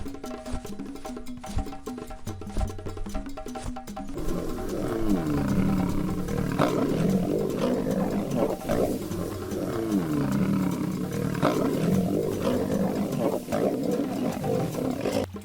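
A lion roars in the wild plains, a deep, rumbling, sustained growling roar that continues loud and close for many seconds after a short lead-in of other noise, with no talk.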